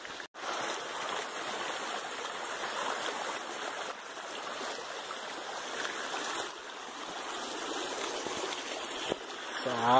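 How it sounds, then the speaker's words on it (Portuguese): Rainwater from the previous day runs like a stream along a mountain trail toward Pico do Selado near Monte Verde, a steady rushing trickle that continues for the whole stretch with no talk. "Essa água toda é da chuva ontem."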